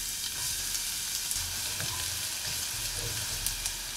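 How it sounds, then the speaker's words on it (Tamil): Finely chopped garlic fries in hot oil in a pan for a white sauce pasta, giving a steady, close sizzle with a few small crackles and no talking. "எண்ணெய் காஞ்சதும் நம்ம பொடி பொடியாக நறுக்கி வச்சுருக்கிற இந்த பூண்டு சேர்த்துக்கலாம்."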